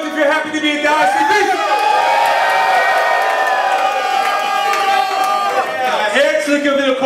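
A crowd at a VIP reception for the ICBC in Berlin cheers, whoops and shouts loudly and continuously for several seconds, a dense burst of many voices.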